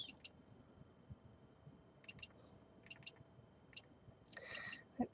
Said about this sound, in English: I'm going to go ahead and finish typing in my password